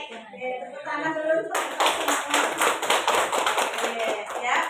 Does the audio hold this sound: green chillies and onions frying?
no